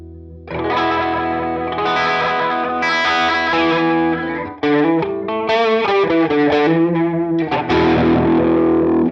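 An electric guitar runs through a Line 6 HELIX ADT tape delay effect, with strummed chords and notes smeared by warbling, pitch-bending repeats as the tape speed shifts; loud, with a brief break midway.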